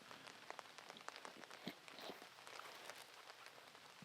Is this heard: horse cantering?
no